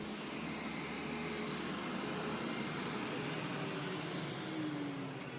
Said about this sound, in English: Alexa, turn off robot vacuum.